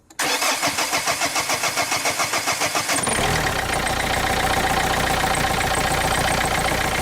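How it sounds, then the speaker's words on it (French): A diesel engine, just fitted with serviced injectors after its low-pressure fuel circuit was primed, cranks in rapid rhythmic bursts for about three seconds, then catches and settles into a loud, steady running roar. "Démarrez le moteur."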